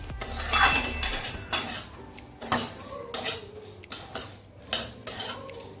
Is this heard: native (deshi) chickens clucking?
no